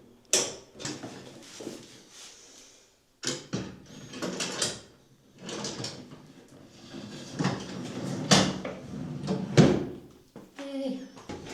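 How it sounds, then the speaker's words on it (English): Cupboard drawers sliding and knocking as they are fitted back into a cabinet, with several clattering, creaking bursts, and talk in between. "just putting these cupboard drawers back in"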